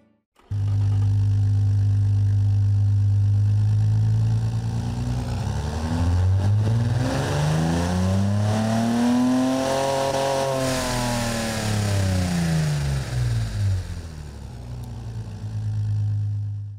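A simulated 1968 single overhead cam, two-valve inline six in the game Automation idles steadily, then revs up smoothly to a high-pitched peak and falls back to idle, loud and close with no talking.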